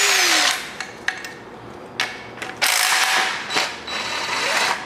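A ratchet loosens 15 mm bolts from the air conditioning bracket on an LS 5.3L LM7 V8, with loud close bursts of rapid clicking, sharp metallic taps and clanks across the span, and no talk.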